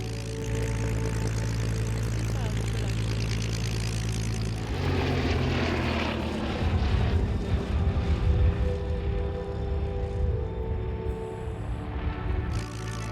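A vintage propeller aircraft, the predecessor of the Hurricane, rebuilt at Duxford, flies at an air show with a steady droning engine that shifts and swells partway through as it passes.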